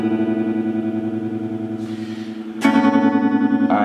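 Electric guitar chords pulsing through a choppy Boss TR-2 tremolo pedal, a steady rapid throb; the tone brightens and grows louder partway through, with no talking.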